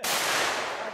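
A single loud Benelli M4 shotgun blast goes off close by during a zombie hunt, a sharp burst that sustains briefly and decays across the whole short moment with no talk over it.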